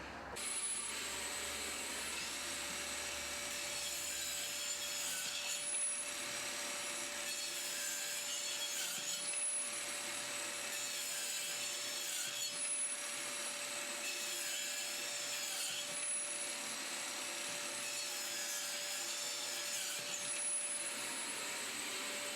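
A power tool saws through wood with a dust collector attached. It gives a continuous, close, whining roar with a vacuum-like hiss, dipping briefly every few seconds over a steady cut.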